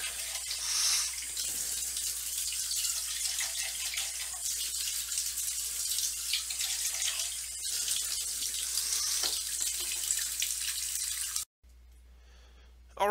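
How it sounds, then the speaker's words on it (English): Running tap water rinsing soap out of a gaming or office mouse pad, a continuous close splashing rush with slight variations as the pad is worked under the stream, cutting off abruptly near the end to near quiet. "we're just going to keep rinsing it out"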